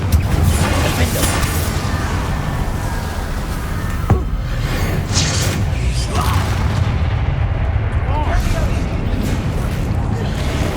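Spell blasts crack and boom in the game Hogwarts Legacy, several sharp bursts and crashes scattered over a dense, continuous bed of battle noise, with voices shouting amid the effects.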